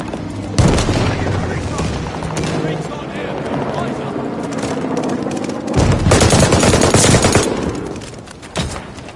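Rapid bursts of automatic gunfire from a shooter video game, loud and close, with heavier volleys partway through and booming impacts layered among the shots.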